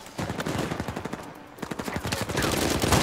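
Gunfire in the video game Uncharted 4: bursts of rapid automatic fire crackle in quick succession, with a brief lull before the shooting resumes, louder and denser, toward the end.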